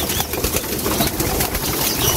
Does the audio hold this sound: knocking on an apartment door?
no